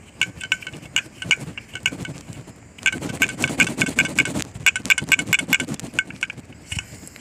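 An old throttle body taken off a Dodge Caliber engine rattles and clinks inside when handled, giving loose metallic jingling in uneven bursts, close up, with short pauses between shakes.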